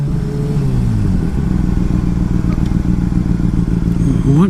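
Motorcycle engine running after the throttle lock on the bar end is released, a steady close rumble that rises into a rev near the end.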